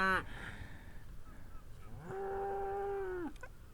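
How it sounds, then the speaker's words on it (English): A small herd of very black cows on Harris and Lewis in the Hebrides, lowing in two long moos, the second a sustained, loud, close call after a short earlier one, over steady outdoor background noise. "I could see a small herd of very black cows."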